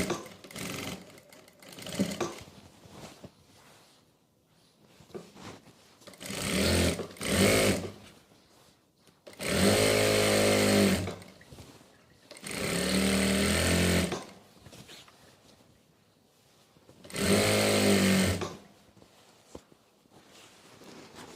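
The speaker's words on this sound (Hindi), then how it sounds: "इस तरह से हम सिलाई लगाते जाएंगे।" A sewing machine stitches salwar fabric in several loud, close bursts of fast motor whirring and needle chatter, separated by quieter pauses while the cloth is repositioned.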